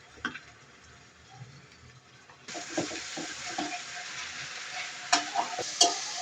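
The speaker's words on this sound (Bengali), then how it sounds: "নাড়িয়ে দিচ্ছি।" Ginger, cumin and garlic paste frying in a pan, a soft sizzle that swells louder midway as stirring continues, with scattered sharp clicks of a utensil against the pan.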